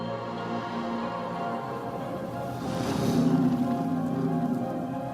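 Steady rain hisses on surfaces in a video game scene, a continuous wash of drops that swells slightly louder midway, with no voices.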